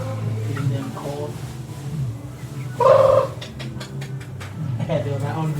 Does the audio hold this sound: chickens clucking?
yes